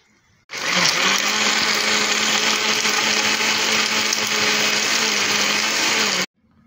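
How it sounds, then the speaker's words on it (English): A blender whirs loudly and steadily for about six seconds blending a soy milk drink, starting abruptly and cutting off cleanly, with no talking. "we're going to blend."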